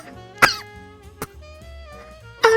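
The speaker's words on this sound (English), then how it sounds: "I just immediately start coughing." Three short, sharp coughs from one person: one early, one brief in the middle and a last one near the end, set over a soft, steady tonal background.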